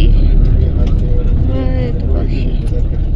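Cars roll along ahead on a jungle safari road in Bangkok, a steady engine rumble running throughout beneath near, continuous talking.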